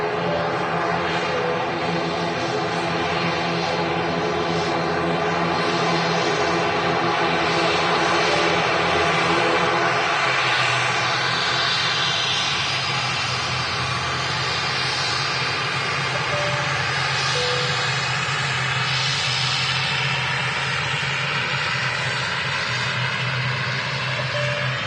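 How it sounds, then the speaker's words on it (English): A Boeing 787 Dreamliner taxiing at Manchester Airport, recorded through the perimeter fence, gives a steady, loud, droning engine roar with a whine on top, continuous for the whole stretch and fading only slightly toward the end. "Matt Cam's just following out the Dreamliner there on its taxi"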